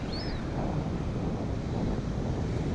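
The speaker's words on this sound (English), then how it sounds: "Just punching out through the last waves there at the moment." Wind and breaking surf buffet the microphone as a Seahorse Kontiki fishing kontiki pushes out through the last waves after strong easterlies, a steady, broad rushing wash with no talk.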